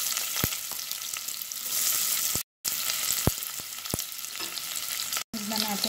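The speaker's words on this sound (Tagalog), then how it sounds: "sa ating kaldero, maglagay tayo ng cooking oil. Lagay natin yung ating onion." Onion frying in cooking oil in a pot, for shrimp curry, sizzles steadily and close by, with sharp clicks and spatters scattered throughout and two brief dropouts.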